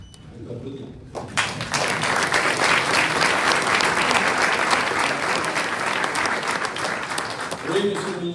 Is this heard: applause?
yes